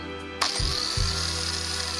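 An angle grinder fitted with a metal cutting disc starts up suddenly when plugged in. A sharp onset quickly rises to a loud, steady, high-pitched whine, with a low motor hum beneath it.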